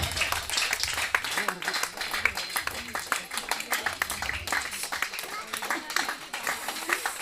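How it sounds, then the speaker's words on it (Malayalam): An audience claps to cheer on men in an Onam saree-folding contest, with a steady patter of many hands running throughout, mixed under loud talk from a nearby voice. "കൈയടിച്ച് പ്രോത്സാഹിപ്പിക്കുക"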